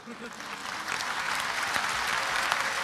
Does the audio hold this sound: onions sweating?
no